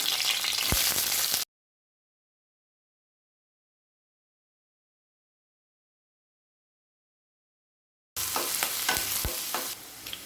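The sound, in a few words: onions frying and being stirred in a pan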